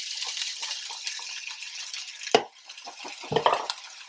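Drained, rinsed beans tipped into a pan for chicken taco lasagna, giving soft clattering and scraping with two sharper metallic knocks of a utensil against the pan, close and with no talking.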